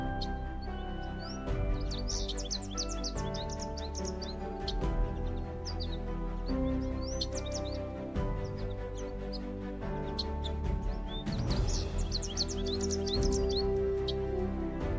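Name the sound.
macaws calling in the Amazon rainforest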